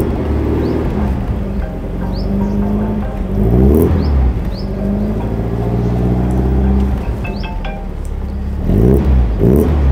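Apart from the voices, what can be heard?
vintage Alfa Romeo car engine revving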